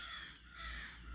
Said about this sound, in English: You can hear the crows cawing in the background.